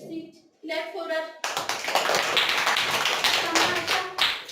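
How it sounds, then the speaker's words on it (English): A classroom of young pupils claps for a girl who has answered at the board in a Class Two lesson, a dense burst of many hands that starts abruptly after a short spoken line and continues steadily to the end. "Clap for her."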